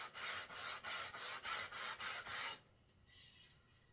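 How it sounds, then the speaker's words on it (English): A wooden flute is rubbed back and forth on 220-grit sandpaper in eight even, close, scratchy strokes, then the rasping stops and a softer brush follows. "we're going to hold the flute down and just do a couple strokes"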